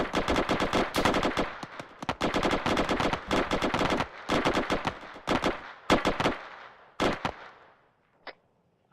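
Gunfire in the military shooter game Arma 3, dense bursts of automatic fire and single loud shots clustered close together, thinning out toward the end into a few isolated cracks and quiet; no one speaks.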